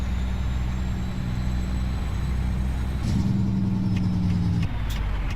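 A truck engine drones steadily while driving in American Truck Simulator, a low continuous rumble that climbs to a higher, stronger pitch partway through, then settles back.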